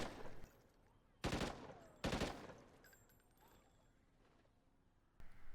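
Two heavy bursts of gunfire in the Call of Duty Ghosts video game, each a short dense blast about a second apart, followed by quieter game ambience and a third burst starting at the end.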